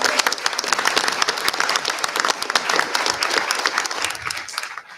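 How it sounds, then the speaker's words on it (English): A board of education meeting audience gives a round of applause for volunteers, lively crisp clapping that stays strong before tapering off at the very end. "One other round of applause for all of our volunteers"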